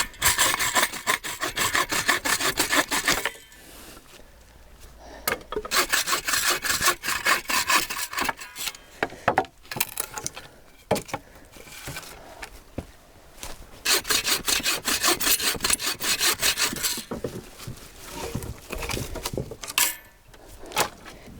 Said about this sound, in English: So I'm just cutting a small bit of the firewood now.